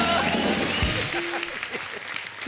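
Studio audience applause on a comedy show, fairly loud clapping that fades over a couple of seconds, with brief voices underneath.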